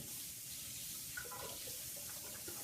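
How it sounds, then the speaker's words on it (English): Tap water running into a sink as a plaster trap gasket is rinsed off beneath it, a steady, faint wash of water with a few small splashy changes and no talking. "I'll take the gasket and I'll rinse it off in the sink."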